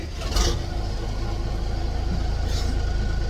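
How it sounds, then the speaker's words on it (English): Steady low engine drone of a slow passenger boat travelling from Laos to Thailand, a constant rumble filling the clip with no talk. "it might drown out some of that engine noise"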